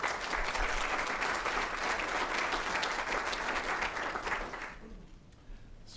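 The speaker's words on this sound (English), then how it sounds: "the dynamic keynote speaker who got 2 rounds of applause" A conference audience applauds a keynote speaker at a community banking event, a steady dense wash of clapping that holds strong for several seconds, then thins and fades out.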